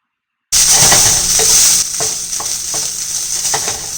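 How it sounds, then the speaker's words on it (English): Vegetable fried rice sizzles in hot oil in a pan, a loud continuous crackling hiss that starts abruptly and carries rhythmic scraping and stirring strokes, close up. "you're going to want to hear that sizzle that this rice will have when it hits the pan"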